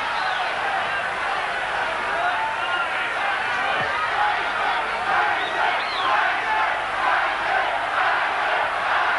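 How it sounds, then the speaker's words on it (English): A boxing arena crowd at the Mike Tyson vs James Smith fight: a dense, continuous roar of jeering and shouting that stays loud and steady throughout. "And there's jeering coming in the last round."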